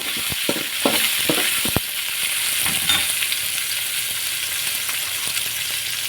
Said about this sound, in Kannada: ಹಾಗೆ ಈರುಳ್ಳಿ ಸ್ವಲ್ಪ ಫ್ರೈ ಮಾಡ್ಕೊಳ್ಳಿ.